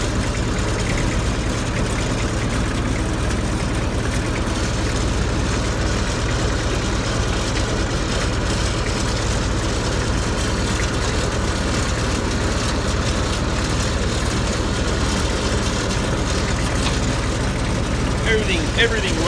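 Massey Ferguson 65 tractor with a four-cylinder Perkins diesel running steadily, a constant loud low engine drone that holds level the whole time, with voices talking faintly over it.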